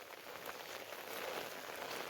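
Steady rain falls in a fog-covered Uttarakhand village, a continuous dense hiss of drops on surfaces at an even level, with no talking.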